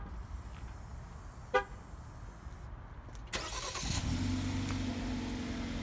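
2018 Jeep Compass 4X4 engine starting by remote start on a cold day, a brief chirp and click followed by the engine catching and settling into a steady idle, fairly quiet and heard alone.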